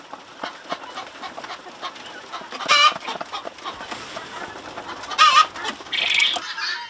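Chickens of assorted fancy breeds, including Polish and Silkie, clucking on an integrated farm in Nepal, with scattered soft clucks and a few louder, squawking calls rising over quiet outdoor ambience.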